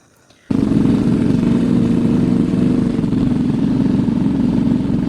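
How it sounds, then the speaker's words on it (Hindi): Royal Enfield Scrambler 450 motorcycle with its 450 cc engine accelerating, a steady loud, dense engine roar that bursts in after a brief near-silent start and holds strong to the end. "एक्सेलरेशन में royal Enfield scrambler 450 lively feel होती है।"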